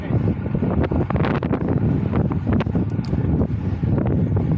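Strong headwind roars steadily across the microphone during a bike ride toward a valley near Torreano, a loud, continuous broadband rush with gusty fluctuations and no talking.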